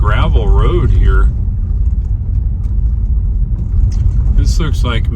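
A Tesla Model Y rolls along a gravel road, a steady low tire-and-road rumble that runs throughout, with someone talking at the start and again near the end.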